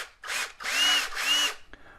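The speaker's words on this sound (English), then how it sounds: "take a 16th inch bit, then you can drill down here where the plug would be, or the outlet hose." Small power drill with a 1/16 inch bit boring a hole into a 1/64 scale scratch-built model tank for a sprayer trailer, heard as three short close whining bursts with brief pauses between them, no talking.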